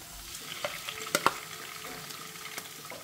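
Onion and prawns frying in hot oil, a constant crackling sizzle broken by several sharp spatula clacks and scrapes against the pan, near and fairly loud.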